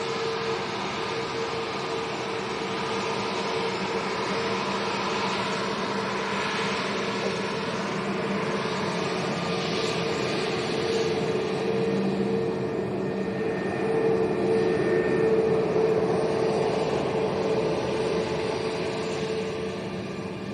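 Steady, continuous aircraft engine drone at Lanzarote's Arrecife airport, from an EasyJet airliner out of Gatwick, holding a constant tonal hum at fairly even loudness throughout with no talk.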